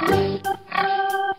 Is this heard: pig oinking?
yes